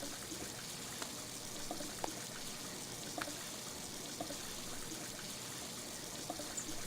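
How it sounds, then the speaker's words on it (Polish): In the video game Sleeping Dogs, water runs from a tap as a character washes hands, a soft continuous trickle and splash with a few faint clicks, heard alone and fairly quiet. "umyjemy ręce teraz"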